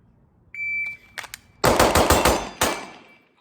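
Rapid staccato gunfire from a Staccato pistol, a non-ported handgun, in bursts of close, loud cracks after a brief electronic beep from a shot timer.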